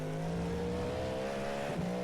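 Cadillac GT race car in the iRacing video game at full throttle, a steady loud engine drone with rising harmonic lines holding high revs, with a brief dip near the end suggesting a gear change.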